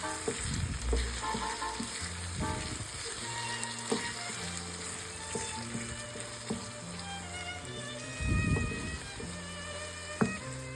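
Beaten eggs poured over cooked zucchini fry in a pan for an omelette, giving a soft, continuous sizzle with occasional utensil taps and low rumbling bumps, fairly quiet and close, no voices.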